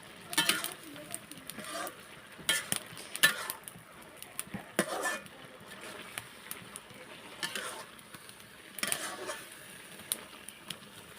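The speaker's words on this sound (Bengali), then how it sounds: "এটা ধুয়ে পরিষ্কার করে নিয়েছি এখন শাকটা আমি এখন মিস্ট করব ভালোভাবে দেখেন" Chopped, washed bottle gourd greens with potato being stirred in a frying pan, heard as soft, intermittent bursts of scraping and tossing, close and fairly quiet.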